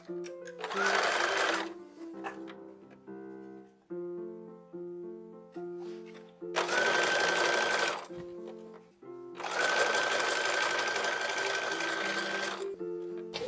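Sewing machine stitching fabric strips for a 1910s-1920s style infant blanket, running in three close bursts of rapid mechanical whirring, separated by quieter handling and musical background between runs.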